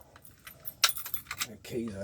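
Metal keys jangle and clink up close in quick bursts while a steering wheel crook lock is removed, with a voice talking toward the end.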